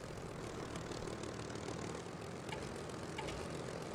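Simulated twin piston engines of a de Havilland Mosquito FB Mk VI bomber in War Thunder drone steadily, loud and close, with a dense, continuous roar and no pauses over a few seconds.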